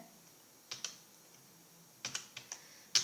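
Keys tapped on a computer keyboard while entering a Minecraft command, heard as a few isolated clicks followed by a quick cluster of keystrokes, close by and fairly quiet, with no talking.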